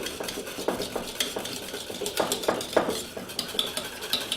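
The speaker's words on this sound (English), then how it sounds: "And the butter just gets stirred through." A utensil stirs about 80 grams of butter through a glossy mixture in a pan, giving soft repeated scrapes and light metallic clinks in an irregular rhythm, close and moderately quiet.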